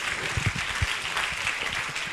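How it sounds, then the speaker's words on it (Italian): Steady applause from an audience at a journalism competition award event in Italy, a continuous wash of clapping at moderate level with a few low thumps, no talk over it. "Un doppio applauso"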